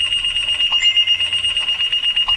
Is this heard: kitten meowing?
no